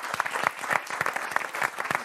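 A TV show studio audience applauds performers as they leave for the wings. The claps are sharp and distinct, landing in quick, uneven bursts close by, and no speech rises above them.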